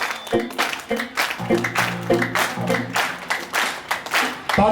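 An audience at a devotional chowki for Baba Balak Nath claps along in a rapid rhythmic beat with singing and music, the claps sharp and close, mixed in with vocals.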